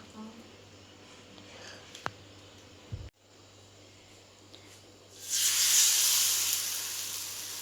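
Steam hisses loudly from a pressure cooker cooking vegetables, rising suddenly after a steady kitchen background and holding as a strong continuous rush, with quiet domestic sounds before it.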